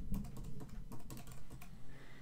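Typing on a computer keyboard to enter a command for a retro gaming console update, a rapid run of close, crisp key clicks with irregular rhythm and no talk.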